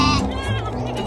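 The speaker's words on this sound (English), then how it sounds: "G for goat." A goat bleats in a children's phonics song, one wavering call right at the start with music continuing underneath.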